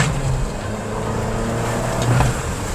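An Abarth 595c with a single-clutch gearbox and an upgraded mid and rear exhaust section drones steadily from the cabin, a low continuous engine rumble with slight swells and no talking.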